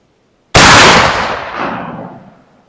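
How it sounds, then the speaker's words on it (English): A single 12 gauge shotgun shot firing a Fury Custom 1 3/8 oz JHP slug at an outdoor range: one sharp, very loud blast that cuts in suddenly and rolls off in a decaying echo over about two seconds. "Is the gunshot delayed for you in the headphones?"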